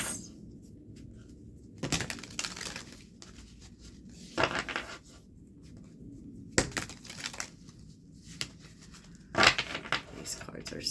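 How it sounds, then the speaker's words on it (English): A deck of stiff tarot cards is shuffled in several separate bursts of riffling and flapping, each a few seconds apart, with quieter handling between them, close and distinct. "These cards are so hard to shuffle, you guys."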